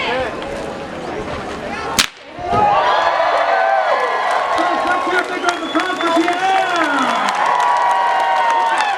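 A single sharp whip crack from a whip performer at a Colorado Renaissance Festival rings out, followed by a crowd cheering and applauding loudly.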